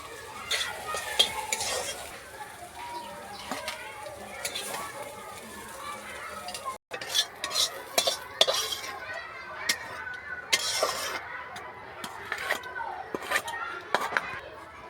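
Bitter gourd and potato sizzle in hot oil in a kadai with turmeric and chilli powder, stirred with a utensil that scrapes and clinks against the pan. Soft, steady frying runs throughout under background voices.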